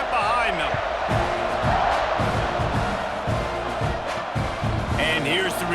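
A stadium crowd at a college football game between Mississippi State and Texas A&M, a loud continuous roar with rhythmic chanting and a cheer building at the end, with a commentator talking over it.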